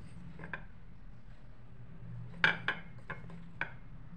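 A spoon clinks against a bowl while stirring custard powder and arrowroot powder into milk, with a few sharp metallic taps and a faint swishing between them in a quiet room.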